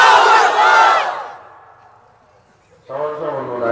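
A gathered crowd loudly shouts the religious slogan Naraye Takbir in unison, a big collective roar that fades out, then a second swell of voices begins after a short lull.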